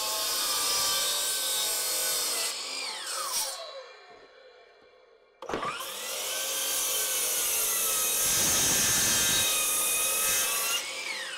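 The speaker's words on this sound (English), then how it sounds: "we'll cut these on the chop saw" Chop saw cutting wood for carpentry, a loud close whine as the blade spins up and bites through the board, dying away before a second cut with a sharp start and sustained grinding roar.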